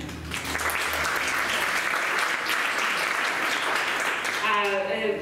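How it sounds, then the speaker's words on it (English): Sustained audience applause at an art talk, a dense wash of clapping from many hands that carries steadily for several seconds before fading as a voice begins. "Please clap for them."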